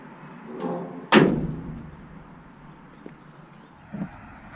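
A door on a 1964 IH C1100 Travelall slams shut with one loud, close metallic bang that rings briefly, followed by a couple of faint knocks and a soft thud.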